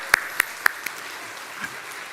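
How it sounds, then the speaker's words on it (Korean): A church congregation gives a few sharp, separate claps in quick succession, then the sound tapers off into quiet room ambience. "다시 한번 큰 박수로 수고했다고 해주세요."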